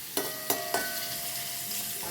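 Food fries in a pan over high heat, a constant crackling sizzle punctuated by three sharp utensil clinks against the pan early on.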